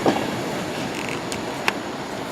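A train rumbles steadily through Chelmsford station with a driving van trailer on the rear, its wheels giving a faint squeal and a couple of sharp clicks over continuous rail noise.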